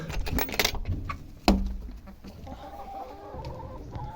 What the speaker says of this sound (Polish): Kury elegancko sobie chodzą po polu.